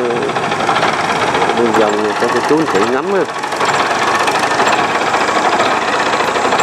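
An old Kubota M4000 tractor's diesel engine runs loud and close with a steady knocking idle, while a voice speaks briefly over it.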